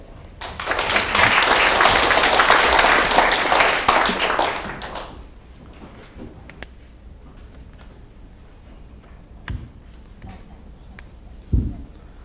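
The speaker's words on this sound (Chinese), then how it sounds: "我们现在掌声欢迎" Audience applause welcoming a university professor to the stage before a lecture, a dense burst of clapping for about four seconds that stops abruptly, followed by a quiet room with a few faint knocks.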